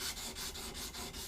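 A ring is sanded by hand with 600 grit paper wrapped around a round piece of wood, giving faint, quick, rhythmic rubbing strokes that repeat about five times in close succession.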